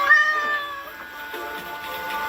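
A cat meowing close by: one drawn-out meow at the start that trails off into quieter, softer vocalizing.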